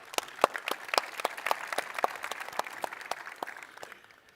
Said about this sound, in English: should we give Mark an applause before we move on?